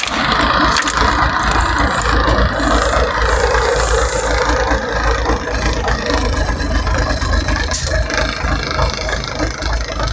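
A tractor engine runs loud and close, a steady rough mechanical drone holding without pause throughout, with no voices over it.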